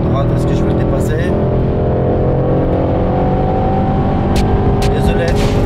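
A Mercedes-AMG GT 63 S accelerates to pass an Audi RS6 on a motorway, heard as a loud, continuous engine drone and tyre roar from inside the car, steady and dense, with faint higher whirs toward the end.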